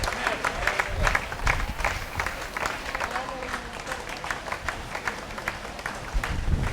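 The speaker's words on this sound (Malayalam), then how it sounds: "ഒന്ന് കൈയടിച്ചു ആമീൻ പറഞ്ഞേ." A church congregation clapping hands together, sustained loud rhythmic applause filling the room throughout, with voices mixed into the crowd.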